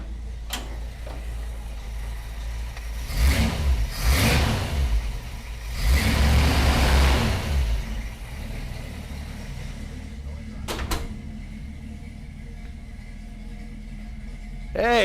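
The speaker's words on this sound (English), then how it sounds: "Rev it." A car engine in a garage revs up in two loud, close bursts, roaring and then settling back to a quieter idle between and after them.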